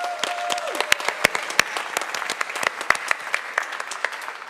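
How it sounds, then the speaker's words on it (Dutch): An audience claps in a dense burst of sharp, overlapping applause at a local town talk show, welcoming a city councillor onto the stage, loud and close, with little else audible. "geef hem een groot applaus, Bart de Lede."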